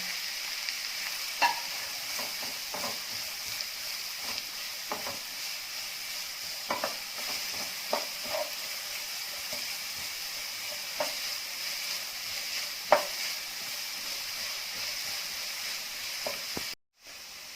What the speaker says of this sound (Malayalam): പച്ചമുളക് ജിഞ്ചർ ഗാർലിക് പേസ്റ്റ് കറിവേപ്പില എല്ലാം ചേർത്ത് നന്നായിട്ട് വഴറ്റിയെടുക്കാം